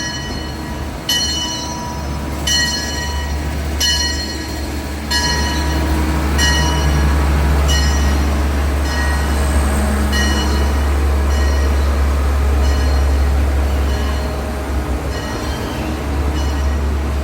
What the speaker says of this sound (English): the train is sort of amongst all of this